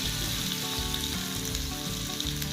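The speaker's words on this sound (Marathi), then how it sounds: "5 मिनिट व्यवस्थित आता ह्याला असं भाजून घ्यायचं आहे।" Green chillies, garlic and ginger fry in a pan with a close, steady, crackling sizzle and a few faint stirring touches.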